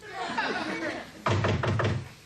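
A few quick knocks on a door, close and fairly loud, following a stretch of people talking.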